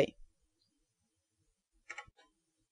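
Mouse clicks on a computer while inserting an image into a web page table: a sharp click at the start, then a short cluster of soft clicks near two seconds, otherwise quiet.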